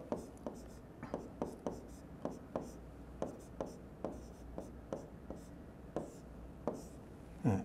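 Marker or chalk strokes on a board as kanji are written, a steady series of short scratching taps with pauses between characters, close and moderately quiet, with no talking over them.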